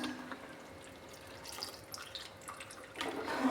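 Thick first coconut milk pours into a pot of ada pradhaman payasam as a soft, faint trickle that grows slightly louder toward the end.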